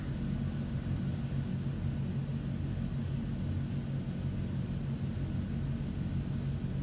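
A Transall C160 military transport aircraft taxis after landing in a flight simulator, its engines giving a steady low drone and rumble with a faint high whine, constant and unbroken, with no voices.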